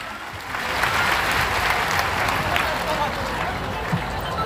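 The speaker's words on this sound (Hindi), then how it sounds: "जोरदार तालियां बजाएं" A large crowd at a mass wedding ceremony for 2,500 brides breaks into loud, dense applause, a continuous roar of clapping and crowd noise that swells in after a moment and holds steady to the end.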